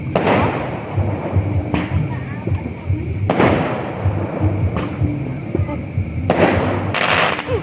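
Fireworks at a New Year camping celebration explode in a series of booming, crackling bursts spaced a second or two apart, loud and close, with a few people's voices faintly heard between them.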